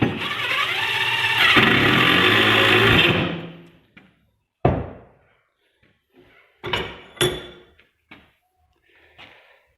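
A self-tapping metal screw is driven into a red pipe clamp with a power driver, giving a loud sustained whirring burst for about three seconds, then a few short separate clicks and taps.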